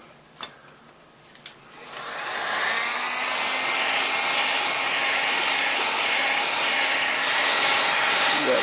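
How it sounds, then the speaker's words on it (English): A heat gun starts up with a couple of clicks and then blows a steady, loud airy roar while shrinking heat shrink tubing over an eBike battery pack, sustained without pause. "when we heat this up, it's going to shrink over that whole space."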